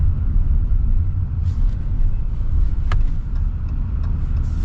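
Low, steady diesel engine rumble from inside a moving 2024 Ram 3500 Big Horn pickup, a continuous droning hum with a few faint clicks and no talking.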